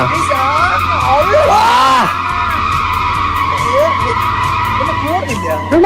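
A car drifts and skids in a high-graphics video game, its tires squealing in long sweeping wails over a steady engine drone, loud and continuous, while someone talks excitedly over it.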